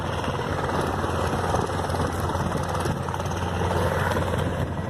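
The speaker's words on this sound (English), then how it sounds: "There's a helicopter up there." A helicopter flies over Elstree Aerodrome, making a steady, continuous rotor and engine drone with a low rhythmic thrum. It is moderately loud and constant, with no speech.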